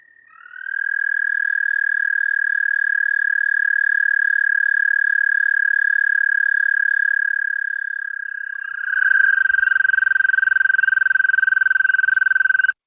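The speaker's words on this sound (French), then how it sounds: "Le crapaud d'Amérique." An American toad gives one long, steady high trill that runs unbroken for many seconds, loud and clear with no voices over it, shifting slightly in pitch near the end.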